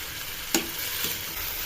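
Ingredients for a creamy cheese pasta frying and being stirred in a pan on a home stove: a steady soft sizzle with a sharp scrape of the spoon, then a lighter stir, close by and without speech.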